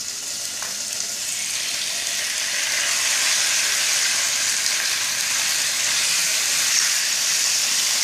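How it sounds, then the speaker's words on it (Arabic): Escalope frying in hot oil in a pan gives a steady, fairly loud broadband sizzle and hiss that builds slightly after the first couple of seconds and then holds evenly, with no talking. "حطيت شوية زيت في القلاية سخن. توا باش نحط فيه السكالوب."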